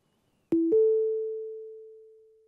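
Two electronic setup tones from a Polk Omni P1 wireless adapter: a short beep, a brief pause, then a second clear steady tone that rings on and slowly fades, loud and alone in silence.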